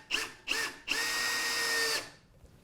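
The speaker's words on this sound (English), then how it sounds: "I'm going to use these just to line my drill up before I even start drilling" Power drill lining up and then boring a hole in a wooden chair seat for a captain's chair: two short close whirring bursts, then a sustained steady whine for about a second before it stops.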